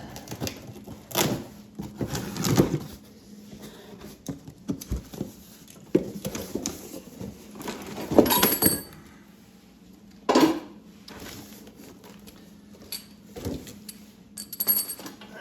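Cardboard box holding a 1,100 lb motorcycle lift being opened, with scattered rustling, tearing and clinking handling noises, several sharper bursts near and fairly loud among quieter shuffling, no talk.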